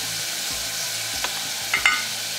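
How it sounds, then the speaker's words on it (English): Celery, carrot, onion, garlic and dried rosemary and thyme fry gently in a pan, a soft steady sizzle with a few light scrapes and clinks as they are stirred, close up and without voices. "So give it all a good stir, and make sure your heat's not too high"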